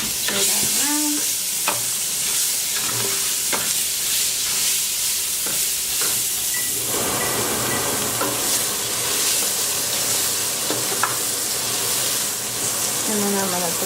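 Chopped onion sizzling and frying in a pan while being stirred, a steady loud hiss with scraping stir strokes, a voice speaking intermittently over it.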